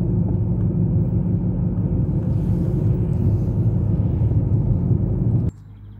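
Low, continuous rumble of a few cars moving through a deserted city under quarantine, steady for several seconds before cutting off abruptly near the end.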